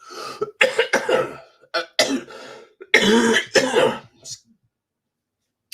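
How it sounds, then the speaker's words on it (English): A string of harsh coughs and throat-clearing bursts during a property finance Q&A, several close, loud hacks clustered over about four seconds, then silence. "Sorry about the cough I've got at the moment."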